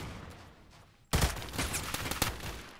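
Gunfire in the Roblox shooter Phantom Forces from a Kriss Vector: after a quiet second, a rapid burst of close shots breaks out and continues as a dense, crackling stream to the end.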